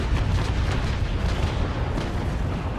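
A cannon broadside fires in the Naval Action video game, a dense, continuous roar of overlapping booms that stays loud and rumbling throughout, with no voices over it.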